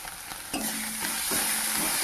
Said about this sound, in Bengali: এই মশলাপাতি দিয়ে দিয়েছি, কষা হচ্ছে